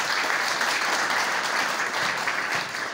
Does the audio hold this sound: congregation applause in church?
yes